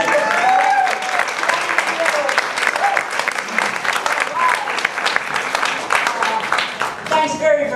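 A large crowd applauds at a women in health care reform forum attended by the House Speaker, sustained dense clapping with scattered cheers, and a voice speaking over it near the end.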